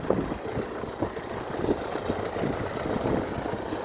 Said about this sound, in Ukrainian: Трактор 1025 білорус в агрегаті ось з такою сільськогосподарською машинкою.